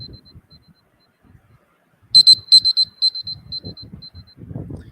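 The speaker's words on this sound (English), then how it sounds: "there will be a buzzer. It will sound something like this." A buzzer marking the end of presentation time gives a short burst of sharp electronic beeps in quick succession, with faint speech and room noise before and after.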